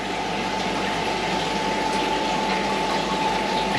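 A water shower pouring into a koi pond, giving a continuous loud splashing rush with a steady pump-like hum underneath, unbroken throughout.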